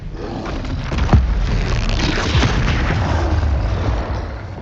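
Confringo fire spell blasts in Hogwarts Legacy, a loud booming explosion with a sharp crack near the start and rumbling impacts over dense game combat noise.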